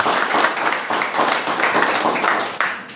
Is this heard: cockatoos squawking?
no